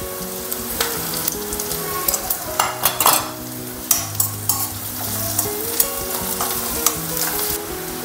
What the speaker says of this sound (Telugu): ఇలా ఆనియన్స్ లైట్గా కలర్ చేంజ్ అయ్యాక ఇందులోకి కొద్దిగా పసుపు వేసుకోవాలి